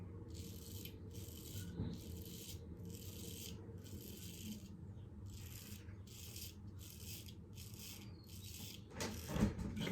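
Stainless steel straight razor scraping across stubble in short, regular strokes, a dry rasping rub repeated about a dozen times, close and fairly quiet, louder near the end.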